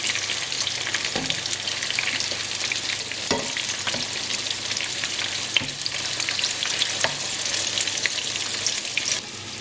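Bangladeshi-style courgette and chilli fritters sizzle steadily in hot oil, a close, continuous crackle with occasional sharper pops and light utensil clicks, no voices.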